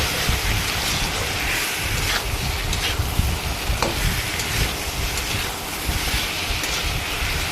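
Food is stirred with salt in a frying pan, a continuous sizzling hiss with scraping and shuffling stir sounds, close and steady.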